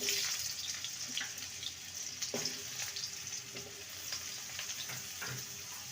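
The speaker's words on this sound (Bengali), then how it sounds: "তেলটা গরম হয়ে গেছে এবার আলুর টুকরোগুলো ছেড়ে দেব আর আলুটাকে ভালো করে ভেজে নেব" Potato pieces frying in hot oil in a pan, a steady close crackling sizzle with scattered louder pops and spits running the whole time, no voices.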